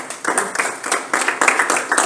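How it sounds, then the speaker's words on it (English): An audience at a Rotaract Club installation ceremony claps in bursts, the applause close and fairly loud, rising and falling in several waves. "I think you need a round of applause for that"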